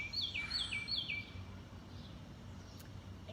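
Birds singing outdoors in a natural setting: a few bright, repeated chirping phrases in the first second or so, then quieter distant calls over a low steady ambient background.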